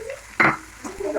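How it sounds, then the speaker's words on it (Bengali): Potatoes frying in hot oil with salt and turmeric, a short sharp sizzle burst as they are stirred in the pan, with quieter crackle around it. "ভালো করে একটু ভেজে নেবো।"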